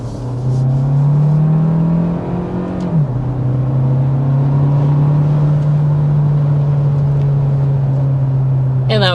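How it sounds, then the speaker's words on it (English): A 2025 Hyundai Tucson Limited accelerating in sport mode, heard from inside as a loud, steady engine drone that rises, drops with a gear change and then climbs again. "that was the sport mode acceleration, just to kind of show you guys a little sample of that"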